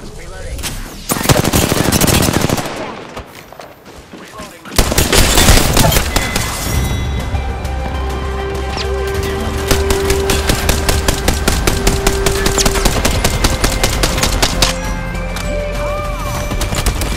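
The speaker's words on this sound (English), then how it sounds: "I'm getting shot at." Heavy automatic gunfire and rapid shots in the video game Apex Legends on PS5, sustained loud bursts of rattling fire with crashes and impacts, continuous throughout with brief pauses, amid busy game sound effects.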